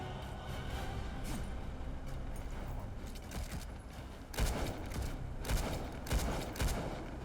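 Gunfire in the Darksiders Genesis video game: a low, steady game background breaks into several loud bursts of shots toward the end, with a quiet voice faintly present.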